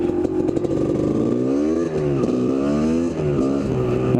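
A Kawasaki KDX250 dirt bike engine running with the choke on, a loud close buzzing two-stroke note that rises and falls through several revs and lugging throttle changes, with no talking.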